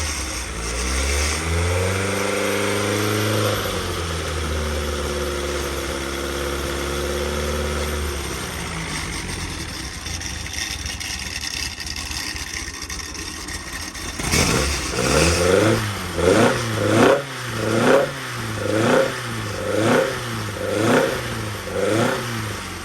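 A 1228cc engine on a dyno starts and runs, first with a steady, loud drone that shifts pitch and settles. It then breaks into a string of sharp, rhythmic revs that rise and fall in quick succession.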